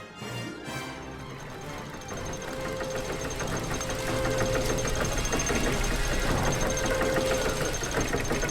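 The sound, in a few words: engine knocking on a machine in The Book of Unwritten Tales 2 video game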